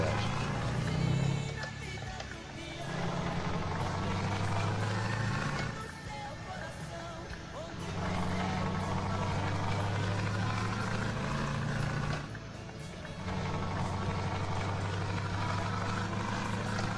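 Truck engine in Euro Truck Simulator 2, a steady low diesel rumble that dips and rises as revs shift in repeated cycles, continuous under someone talking throughout.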